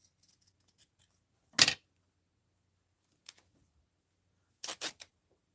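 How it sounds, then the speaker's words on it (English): Scissors cut through paper or card for an art journal or card project: a few crisp close snips and scrapes, separated by short pauses, with no voices. "Cut it here. And I think I'll cut a little piece off of this."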